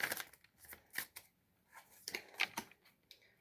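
A Witches Tarot deck is shuffled by hand in soft, quick papery riffles and flicks, close but quiet, in uneven bursts with no speech.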